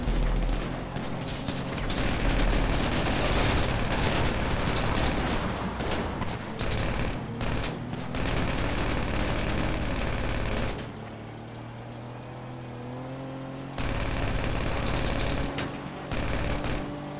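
Sustained automatic gunfire in the online shooter GTA 5 Online, dense rapid bursts running almost nonstop over game engine drone, dropping briefly before resuming.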